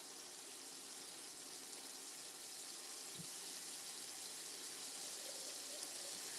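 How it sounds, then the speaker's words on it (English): Plain water splashes into a pan of frying catfish fillets for a Vietnamese caramelized catfish dish, producing a quiet, continuous hiss with one soft low bump partway through. "Let's do a splash of water."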